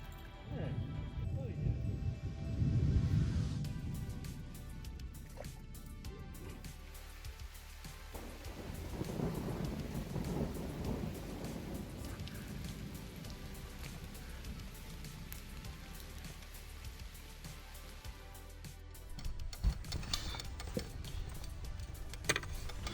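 Rain patters steadily on a surface during a fishing outing, with low rumbling and occasional louder bursts, while people talk intermittently over it.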